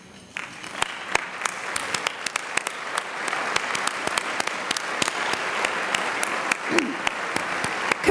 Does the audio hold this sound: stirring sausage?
no